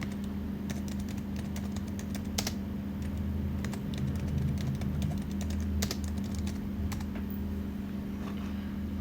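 Computer keyboard typing while searching for a Canva template, quiet rapid key clicks in a steady stream over a low background hum, with no talking.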